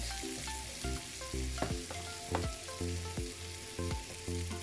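Onions frying in a pan for a chicken pasta: a steady close sizzle with regular scraping stirs every second or so, no voices.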